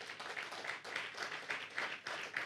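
Applause from the audience at a National Heritage Council commemoration of the 60th anniversary of the Rivonia Trial, steady crowd clapping filling the room for a speaker, with no talk over it.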